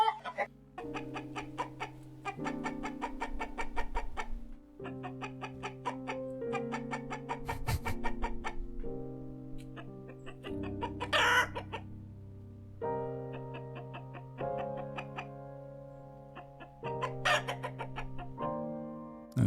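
Loud chicken clucks and crows sound in quick succession in a video game outro, with no talking over them.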